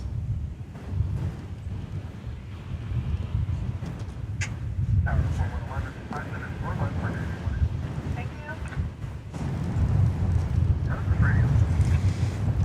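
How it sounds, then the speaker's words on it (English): Wind gusts across an open outdoor spot at DFW Airport, a steady low rumbling rush that swells louder near the end, with faint higher tones drifting through. "Wind picking up."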